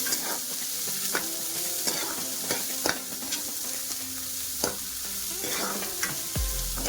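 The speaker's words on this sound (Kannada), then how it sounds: "ಈಗ ಹೆಚ್ಚಿಟ್ಕೊಂಡಿರೋಂಥ ಈರುಳ್ಳಿನ ಸೇರಿಸ್ಕೊಳ್ಳಿ" Chopped onions being added to hot oil and fried while making Kannada-style tomato saaru: a steady close sizzle with frequent sharp scraping and clinking stirring strokes, no voices.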